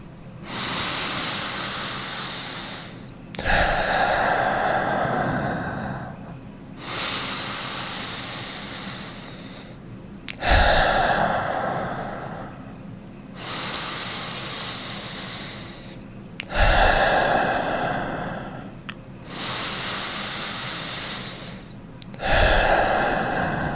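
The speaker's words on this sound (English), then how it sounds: "join me and we're going to do 5 nice solid breaths together" Deep, slow breathing during a guided meditation: five long cycles, each a loud sharp inhale followed by a drawn-out hissing exhale, spaced about every six seconds with no talking.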